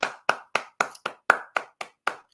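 Nine single hand claps ring out close and crisp in an even, steady rhythm, each sharp and distinct with short gaps between.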